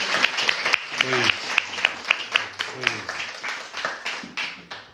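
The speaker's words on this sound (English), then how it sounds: "Can we give a round of applause for it?" Audience applause at an artist talk, a burst of scattered clapping from a room of people that swells and then tapers off, with some voices mixed in.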